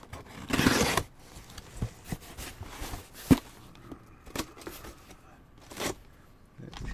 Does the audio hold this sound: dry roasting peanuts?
no